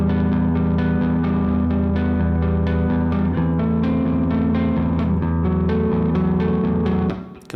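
A distorted electric guitar riff from a guitar tutorial rings out steadily in a continuous, sustained pattern with echo, then cuts off abruptly near the end, with no talk over it.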